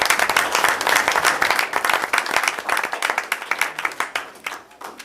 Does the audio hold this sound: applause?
yes